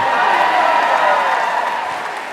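Live audience at a 2 Dope Queens comedy show applauds and cheers in a dense, steady wash of clapping that holds loud for a couple of seconds and then begins to fade slightly, with some crowd voices mixed in.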